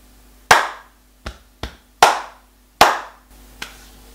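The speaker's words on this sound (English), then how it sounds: "Let's clap it together." Six distinct hand claps ring out in a body-percussion rhythm, crisp and close with a short room echo, uneven in spacing and loudness in a quiet room.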